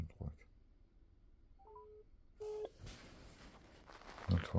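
A telephone dials out a call, with a few short, faint electronic tones and beeps, quiet and close. Someone speaks at the beginning and again after the tones.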